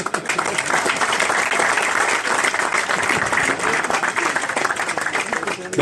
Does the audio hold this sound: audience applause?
yes